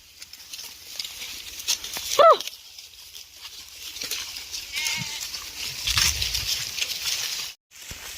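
A single short lamb bleat rises out of open-air background noise, followed by faint rustling and a distant voice calling.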